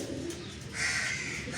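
Soft black tiger grizzle pigeon cooing close by, low murmuring coos repeating over a steady background hum, with no talking.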